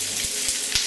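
Gambas sizzling in a smoking-hot frying pan, a steady bright hiss throughout with a few soft pops and knocks as they sear.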